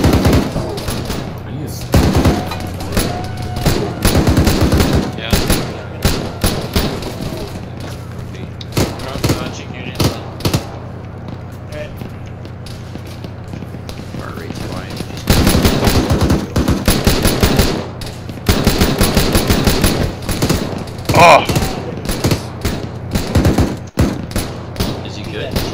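.50 caliber machine gun firing from the turret of an M113 armored vehicle, repeated loud bursts of rapid heavy shots with pauses between, close and powerful, over a steady engine drone, with people talking.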